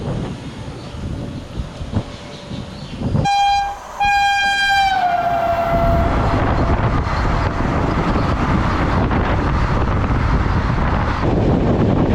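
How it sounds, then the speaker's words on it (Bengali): A train pulls into platform one at Dalkhola station in the early morning, with a loud two-tone horn blast sounding twice, followed by a steady close rumble of railcars rolling in. "ট্রেন এখন কিন্তু এসে ঢুকলো ডালখোলা স্টেশনের এক নম্বর"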